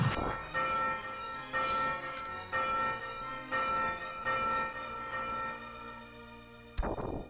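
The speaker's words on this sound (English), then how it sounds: "So we bang the bell." A bell struck in the SNES game Demon's Crest rings out in repeated tolls, each a resonant chime fading into the next, closing with a sharper sound, moderately faint.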